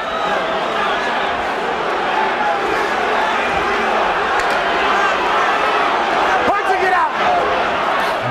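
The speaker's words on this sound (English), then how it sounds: "An enormous crowd here at the Hilton in Las Vegas." Enormous boxing crowd filling the Hilton arena in Las Vegas during a heavyweight title fight, a dense continuous roar of chatter and shouting at steady loudness throughout.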